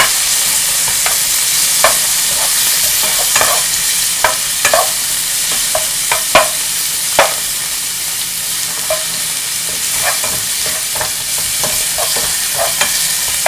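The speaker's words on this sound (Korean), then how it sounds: "삼겹살 을 먼저 넣고 볶아주시고" Pork belly stir-fries in a hot pan for yaki soba, a loud dense sizzle with repeated spatula scrapes and taps in an uneven rhythm, close and with no talking.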